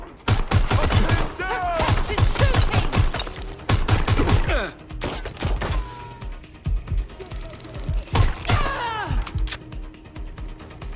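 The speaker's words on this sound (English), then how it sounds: "Suspect is shooting!" Combat in Watch Dogs: Legion, with a suspect firing on police: loud, rapid volleys of gunshots in several bursts, mixed with shouted voices and scattered mechanical clatter.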